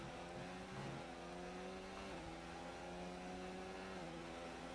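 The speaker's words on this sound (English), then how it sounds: "Revving real high, trying to get as much speed as he can out of the exit." A race car engine in an Xbox racing game revs high and steady, whining loudly and continuously with brief dips in pitch as the car pulls out of a hairpin, with no voices.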